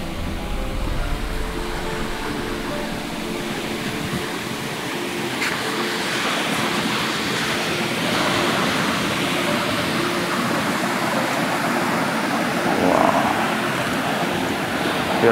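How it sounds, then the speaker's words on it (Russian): Ocean waves breaking on the shore at sunset, a steady broadband roar of surf close by with a slightly stronger crash near the end, no speech. "посмотрите на эти волны."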